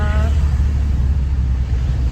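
Steady low rumble of afternoon road traffic with heavy congestion, a constant near drone of cars with no distinct passes, and no voices heard.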